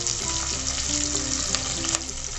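Chopped onions and ginger frying in hot oil in a kadhai for a handi chicken, giving a steady, loud sizzle with light stirring scrapes throughout, no voices.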